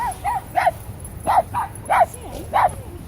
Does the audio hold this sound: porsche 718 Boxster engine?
no